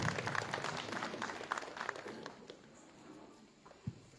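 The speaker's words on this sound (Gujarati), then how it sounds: "આપણે તાળીઓથી એમને વધાવીશું." Faint, distant applause from an audience welcoming a guest at a literary gathering, scattered claps that thin out and die away.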